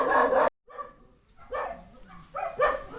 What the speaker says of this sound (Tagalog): yung ingay ng mga aso at madaming aso na may ingay dito